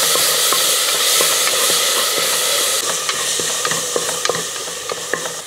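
Ginger, garlic and onion sautéing in hot oil for a liver fry, a loud, steady sizzle close by, broken by the scrape and tap of a spoon stirring the pan.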